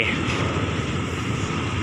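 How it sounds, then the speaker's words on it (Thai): Diesel engine of an ordinary passenger train revving at a station stop, a steady loud broadband roar with a low rumble holding evenly throughout, no voices over it. "เสียงเร่งเครื่อง"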